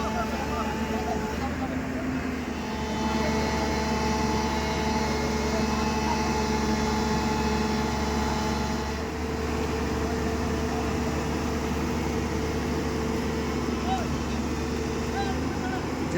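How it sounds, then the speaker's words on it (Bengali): A JCB excavator's engine drones steadily as it slowly reverses, hauling a large boat down into the water before a big crowd; the low rumble runs continuously and moderately loud, with crowd murmur and some talk mixed in. "জেসিবি একটু করে পেছাচ্ছে"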